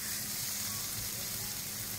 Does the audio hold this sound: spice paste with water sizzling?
yes